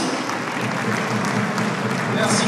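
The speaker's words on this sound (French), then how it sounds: "Sous vos applaudissements." Audience applause greets a presenter stepping up to hand out a prize at a 2018 robotics competition in Saint-Quentin, steady and fairly loud clapping for a couple of seconds with crowd murmur mixed in.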